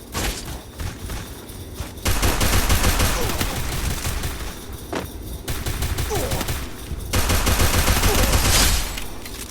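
Gunfire in the mobile shooter Free Fire: dense, loud bursts of rapid automatic shots and thumping fusillades that fill most of the stretch, with brief pauses between volleys and no talk.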